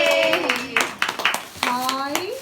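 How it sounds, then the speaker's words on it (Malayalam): Family members clap at a girl's sixth birthday celebration, a few scattered close hand claps mixed with a child's and adults' chatter running over them. "ക്ലാപ്പ് ചെയ്യ എല്ലാരും."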